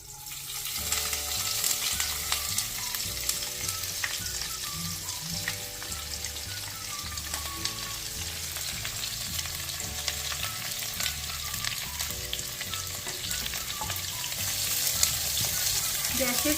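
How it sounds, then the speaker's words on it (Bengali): Onions fry in a pan with cinnamon tempering over low to medium flame, a steady close sizzle with occasional scraping stirs, continuous and moderately loud beneath a repeating low music loop. "পেঁয়াজটা ভালো করে নাড়াচাড়া করে"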